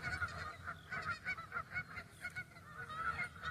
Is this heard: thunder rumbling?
no